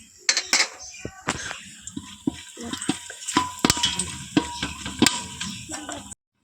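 Whole bay leaves, cinnamon, cloves and garam masala fry in hot oil for basanti pulao, giving a steady close sizzle broken by sharp clinks and scrapes of a spoon stirring in the pan.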